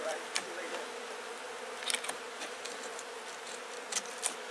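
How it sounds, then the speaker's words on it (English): Honeybees from an open, slightly aggressive hive in cold weather give off a continuous close buzzing drone, with occasional sharper buzzes as individual bees pass near. "This is a slightly aggressive hive"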